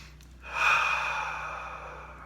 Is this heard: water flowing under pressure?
no